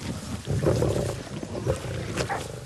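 Lions growl and roar in a wild setting while feeding on a captured baboon, a loud, close, rumbling snarl that swells and continues without pause.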